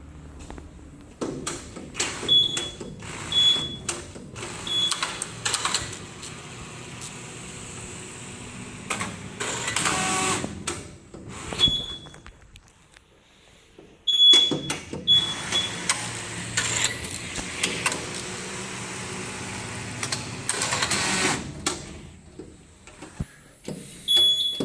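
A Longxing industrial sewing machine runs in two long, busy bursts of mechanical clatter and whirring, with short high beeps mixed in and a brief quiet gap in the middle.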